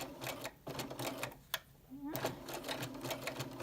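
Sewing machine stitching forward and backing along a skirt placket, rapid needle chatter in bursts with a brief pause and a short whirring slowdown in the middle, close and clear.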